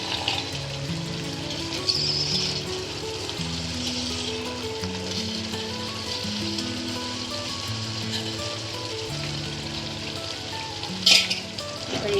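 Tomato masala with fresh peas sizzles steadily in hot oil for palak matar paneer, a continuous close frying hiss with light stirring and a brief clatter near the end, and a faint tonal background underneath.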